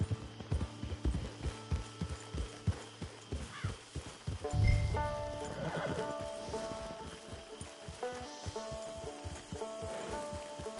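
A horse in Red Dead Redemption 2 whinnies loudly near the middle, with steady clip-clopping hooves before and after and game ambience underneath.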